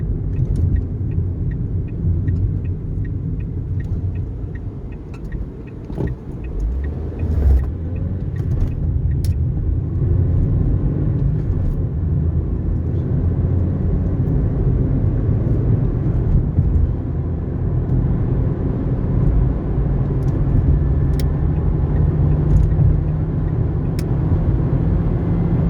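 A car driving down a rough road, its steady low road rumble and rattling vibration continuous and close for the whole stretch, with no talking.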